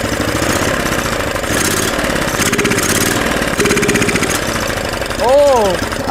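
A 420cc Yerf-dog go-kart engine runs loud and close. It idles with a steady mechanical chatter, then rises briefly in a short rev near the end.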